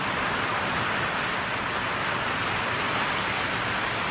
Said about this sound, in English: Torrential downpour out of nowhere.